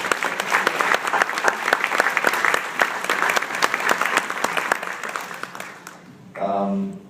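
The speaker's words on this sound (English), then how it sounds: "we need to give her a round of applause" A room of brunch guests breaks into a round of applause, many hands clapping steadily and fairly close, crisp individual claps audible; it fades out and a voice begins speaking at the very end.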